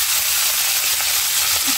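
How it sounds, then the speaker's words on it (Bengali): Fish frying in a pan gives a steady, dense sizzle and hiss that runs unbroken and fairly loud throughout, with no voices. "মাছ রান্না করতেছি"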